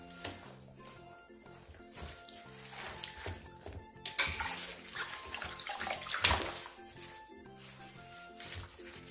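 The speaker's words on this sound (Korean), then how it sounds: "30분간 더 절여 물에 한 번만 가볍게 헹궈내" Salted young radishes for chonggak kimchi are rinsed in a basin of water, making faint, irregular sloshing and splashing as they are swished about and lifted.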